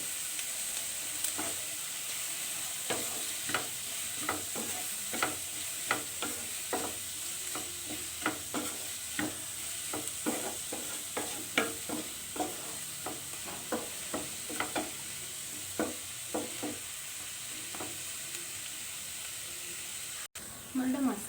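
Onion masala with chopped tomato sautéing for dry fish masala fry, heard as a low steady sizzle broken by a regular series of scraping spatula strokes, with a brief louder knock at the very end.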